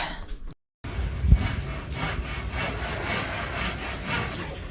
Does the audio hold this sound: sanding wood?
yes